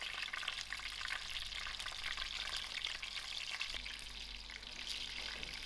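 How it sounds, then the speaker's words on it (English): Homemade KFC-style streetwise chow frying golden and crispy in hot oil, a steady close sizzle with crackling bubbles throughout and a brief stir partway through. "it's golden, crispy brown. I'm just going to give this a turn. Getting fried nice and lovely."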